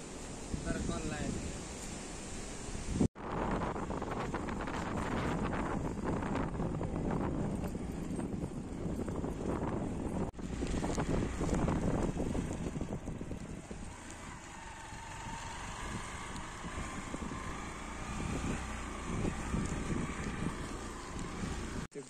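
Gusty wind buffeting the microphone on a cold mountain trail in drizzling rain, a loud continuous roar with a sharp knock near the start, heard up close.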